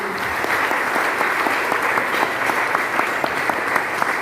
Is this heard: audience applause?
yes